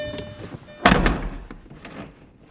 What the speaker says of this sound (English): But when I close my door